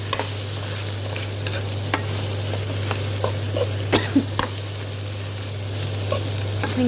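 A spoon stirs vegetable garam masala curry with spring onions in a pan, scraping and clinking in irregular strokes over a low continuous sizzle and a steady stove hum.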